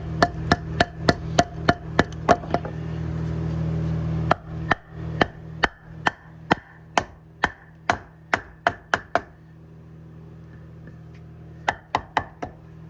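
Sharp hammer taps ring out in a steady series, tapping a part into place on a 1965 Malibu L79 engine, with a low hum for the first few seconds, then more taps, a pause, and a final quick cluster.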